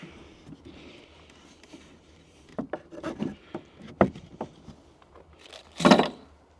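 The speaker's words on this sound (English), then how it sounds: "we're just sliding them in and connecting these together" Metal bolts are slid into raised garden bed panels to join them, giving a few close, sharp metallic clinks and scrapes with a louder rattling clatter near the end.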